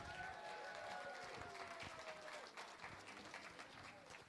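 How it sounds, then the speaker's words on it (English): Dense, steady applause from a darts crowd at a world championship event, a continuous wash of clapping at low level with no speech over it. "ladies and gentlemen, a massive round of applause for Paula Murphy"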